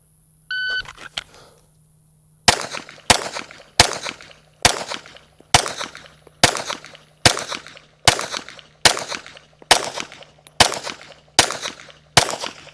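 Handgun fired at a distant target on an outdoor range: after a short electronic beep, eleven sharp, loud shots ring out in an even, rapid rhythm, each followed by a brief echoing tail.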